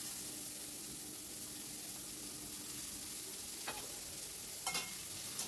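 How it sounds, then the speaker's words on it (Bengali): Chopped onion hitting hot oil in a pan gives a steady, close sizzle of frying, with a couple of brief scraping stir clicks near the end and no talking. "এইবার আমি দিয়ে দিচ্ছি কেটে রাখা পেঁয়াজ কুচিটা।"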